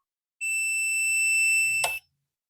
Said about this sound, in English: Going to hold the button down until it beeps.